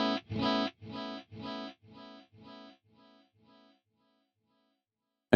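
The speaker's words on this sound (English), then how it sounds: "you're going to have 2 of these cascading" Electric guitar through a CorOS circular delay set to two cascading repetitions: quick paired chord hits repeating in a bouncing rhythm and steadily dying away over a few seconds into silence, with a sudden sharp onset right at the end.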